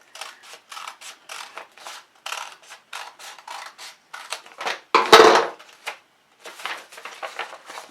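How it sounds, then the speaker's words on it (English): Scissors cutting through a paper pattern for a rice pot bonnet, a close run of crisp, rhythmic snips with a short pause and one louder crunch midway. "So then we just have to cut it."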